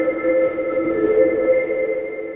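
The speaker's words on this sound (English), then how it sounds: "let's turn the soft attack down and listen to the reverb that we have." Abletunes RVRB algorithmic reverb plugin set fully wet sounds as a dense, sustained shimmering wash of tone with steady held pitches, loud and even throughout with no talking.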